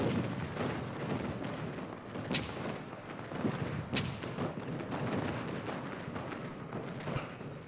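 Musket and artillery fire in a Gettysburg Civil War strategy game, a steady dense crackle of volleys with sharper reports standing out now and then, continuous and loud throughout with no voice.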